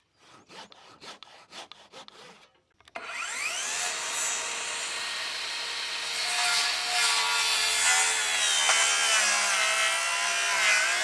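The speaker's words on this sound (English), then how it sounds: "Then get my saw out and I'll get that cut." A hand saw cutting through a milled wooden utility pole: a few sharp rasping strokes, a brief pause, then steady continuous sawing close by, with no one speaking.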